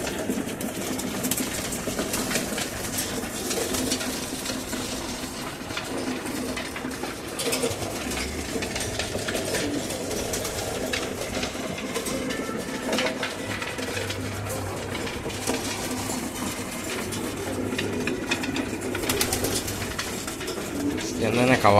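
Racing pigeons cooing at a loft during a feeding, a dense, continuous murmur of soft coos and rustling from many birds close by, with no talk.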